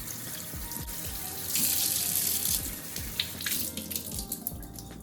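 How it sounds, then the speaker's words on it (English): Tap water runs steadily into a sink while pulp is rinsed out of a straining bag for homemade oat milk, with a close, continuous splashing that swells in the middle. "So I'm rinsing the pulp out of the bag so that I can use"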